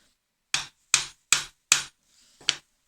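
A chisel struck into a wooden workpiece along a knife line while cutting a stopped housing: five sharp, close mallet blows in a steady rhythm, then a short pause before the last, all in quiet.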